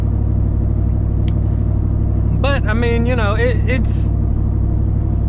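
A cammed GMT-800 truck with true dual exhaust, two shorty glass packs and two 5-inch tips, holds a steady, deep rumbling drone while someone talks briefly over it.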